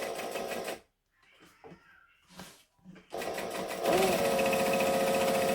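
A sewing machine stitches a vinyl bag in loud, steady runs, breaking off briefly while someone talks, then whirring again close by.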